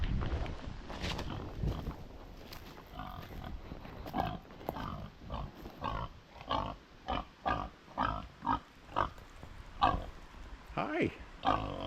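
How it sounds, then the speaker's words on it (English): Pigs on a farm grunt and oink in a steady run of short, rhythmic bursts that grow louder and closer, with a person talking softly over them and outdoor background noise. "Let's go say hi to the pigs"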